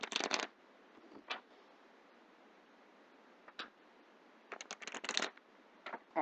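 Romance angel tarot-style cards being shuffled in several quick riffling bursts, close and fairly loud, separated by quiet pauses and a few single soft card flicks.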